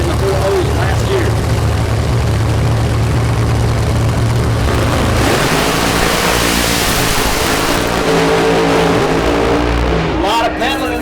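Funny car drag racing run at Central Illinois Dragway: a loud, continuous engine roar that surges and shifts pitch as the car pedals and goes sideways down the strip, with commentary voices over it.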